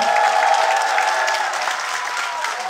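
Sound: concert audience applause

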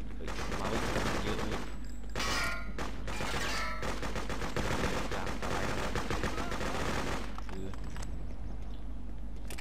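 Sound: machine gun fire in video game Freedom Fighters

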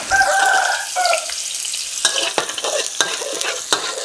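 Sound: stir-frying garlic in oil in a pan

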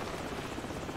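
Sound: helicopter in a video game

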